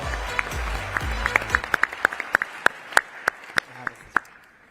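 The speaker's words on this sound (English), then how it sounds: "Let's give them a round of applause." A sparse scattering of individual claps rings out at a forum opening reception and dinner, welcoming a spa's owners, with a voice speaking over the first second and the claps thinning toward the end.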